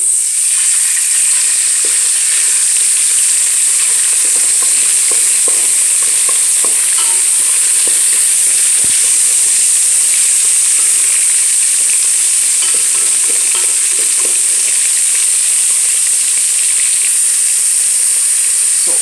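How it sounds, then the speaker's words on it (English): Pork belly frying in melted butter in a pan, a loud, steady sizzle with constant bright hiss and faint crackles running without pause, no voices. "So we are going to cook until the pork belly turns brown."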